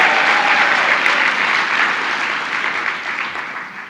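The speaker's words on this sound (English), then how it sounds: "Give yourselves a big round of applause." Sustained applause from a large audience at a women's equality luncheon honoring elected and appointed officials, a dense, even wash of clapping that stays loud throughout and eases slightly toward the end.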